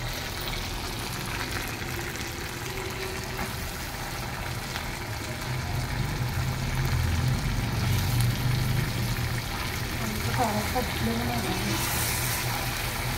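Potatoes go into a duck curry sizzling in a pan over a wood fire, with a steady frying hiss and a louder burst of sizzling midway, while a person speaks over it.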